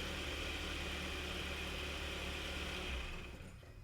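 Kia K5 engine idling steadily, then shutting off via remote start near the end, its hum fading to quiet.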